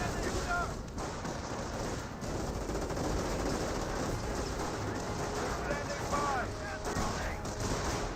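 Sniper rifle shots crack through a dense World War II battle in Company of Heroes, striking Panzer Grenadiers amid continuous gunfire, artillery rumble and game noise, with a commentator talking over the action.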